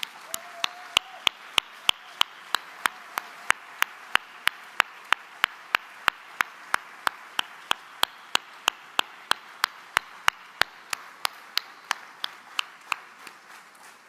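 A crowd at a political speech claps in unison, sharp steady beats about three per second, continuing for over ten seconds before thinning out at the end.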